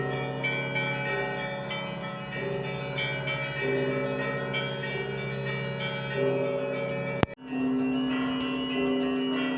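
Bells of the Pochaiv Lavra peal continuously with layered, resonant tones and periodic fresh strikes, broken by a brief sharp knock near the end.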